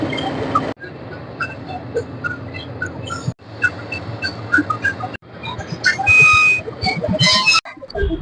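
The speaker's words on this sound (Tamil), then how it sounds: "ஒவ்வொரு தடவையும் விசில் அடித்து மக்களை ஏற்றிட்டு இருக்காங்க" A sharp whistle blows at Coonoor station as the Nilgiri Mountain Railway toy train to Ooty prepares to depart, a short bright tone over crowd bustle and shifting ambient noise.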